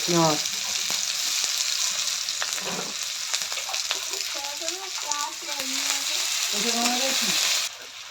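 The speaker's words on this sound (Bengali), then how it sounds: "তেল দেওয়া হয়েছে, তারপরে পেঁয়াজ ছেড়ে দিল।" Onions dropped into hot oil in a pan while cooking rui fish curry with potol and potato, giving a steady loud sizzle and crackle throughout that cuts off near the end, with a voice talking faintly in the background.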